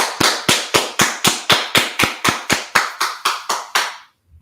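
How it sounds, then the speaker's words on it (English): A group claps in unison, about fifteen sharp, evenly spaced claps in a steady rhythm, close and loud, then stopping. "All right, let's clap it up."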